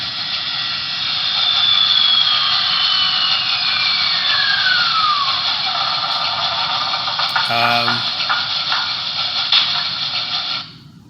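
Auger sound effect from a Broadway Limited Imports PRR K4s streamlined 1938 #3768 model locomotive: a steady mechanical whirring hum sustained for about ten seconds with a brief tonal blip near the end before it stops abruptly.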